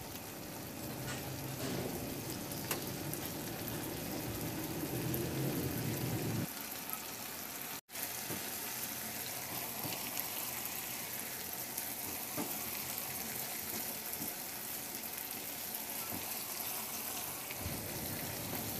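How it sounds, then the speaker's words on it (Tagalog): Squid in a sweet and spicy sauce simmers in a pan, a steady soft sizzle and bubbling continuing throughout, with occasional stirring scrapes; a low background rumble drops away partway through. "Ihalo lang din hanggang sa mag-reduce yung sauce o medyo lumapot din siya."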